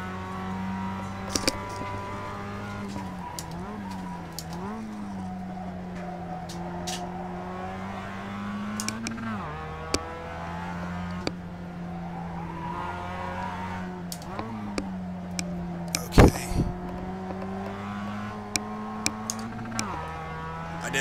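A Mazda MX-5 race car at Summit Point in iRacing holds a steady engine drone that dips and swells briefly several times as the throttle eases, with scattered clicks and one sharp burst near the end.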